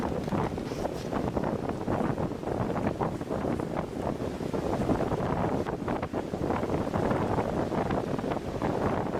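Cold wind blows hard outdoors, buffeting the microphone in a dense, continuous roar that stays loud and steady throughout, with no talking.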